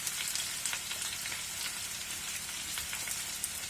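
Potatoes frying uncovered in a pan over raised heat, with meat and garlic cooking alongside, give a faint, steady crackling sizzle with fine spattering pops, close and continuous, no voices.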